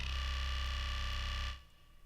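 Distorted EDM-style synthesizer bass preset droning loud and steady with a buzzing, pulsing low end, then cutting off abruptly and leaving a faint tail; no voices.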